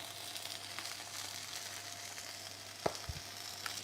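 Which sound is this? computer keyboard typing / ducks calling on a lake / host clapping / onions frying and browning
onions frying and browning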